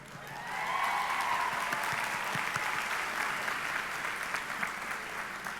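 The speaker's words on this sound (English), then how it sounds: "Can we get a round of applause?" A crowd at a 2022 high school commencement ceremony breaks into a sustained round of applause, swelling within the first second and holding steady as a dense wash of many hands clapping at moderate distance, with no speech over it.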